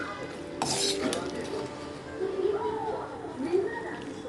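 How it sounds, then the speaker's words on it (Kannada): Mustard seeds spluttering in hot sesame oil for a gooseberry pickle tempering, a steady crackle and sizzle with clinks of a metal spoon against the pan, and a voice speaking over it. "ಎಳ್ಳೆಣ್ಣೆಯಲ್ಲಿ ಸಾಸಿವೆ ಹಾಕಿ ತುಂಬ ಸಾಸಿವೆ ಹಾಕಿ ಒಗ್ಗರಣೆ ಹಾಕಬೇಕು"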